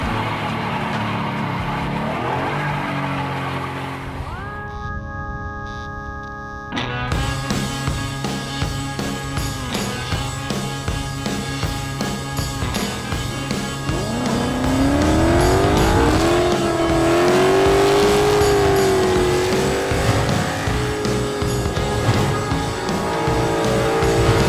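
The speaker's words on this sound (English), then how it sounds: "we're gonna do drifting in the Mustang for Von Gittin" A Ford Mustang drifts on a racetrack: a loud engine revs and roars, tires squeal in long sliding screeches that rise and fall, and bursts of acceleration play near and continuous for over twenty seconds.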